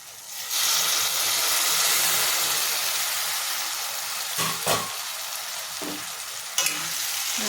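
Prawn and drumstick curry cooks over a low flame, giving a steady close hiss and sizzle that eases slightly over time, broken by a couple of brief stirring scrapes and clatters.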